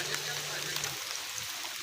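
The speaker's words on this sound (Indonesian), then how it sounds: "ondel-ondel kena hujan semua guys" Rain falling steadily on a street parade of ondel-ondel giant puppets, a broad continuous hiss of drops with a low hum fading midway, and faint voices in the background.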